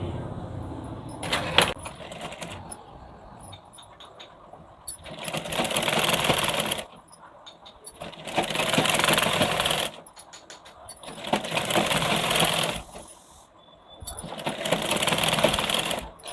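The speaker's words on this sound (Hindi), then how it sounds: "हम एक तरफ की सिलाई जो है इस पे रख के ऐसे पूरा सिलाई कर देंगे।" A sewing machine stitches a blouse collar strip in four long whirring runs, each about two seconds, with quieter gaps of handling and faint rustling between them, close and loud.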